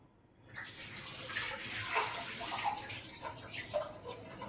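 Tap water runs steadily over coriander leaves being washed in a home kitchen, a continuous rushing splash that starts abruptly after a brief quiet moment and holds at a fairly loud, close level with small fluctuations.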